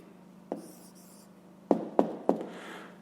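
A pen writes a maths answer on paper, giving a few sharp taps and short scratchy strokes spaced apart over a faint background hum.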